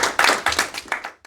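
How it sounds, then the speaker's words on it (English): A brief patter of applause at a talk, a handful of sharp claps close together that quickly die away, with one last faint clap. "warm round of applause for Tom Franklin."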